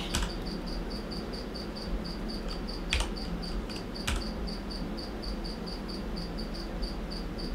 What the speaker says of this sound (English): I'm also very conscious of this one cricket now.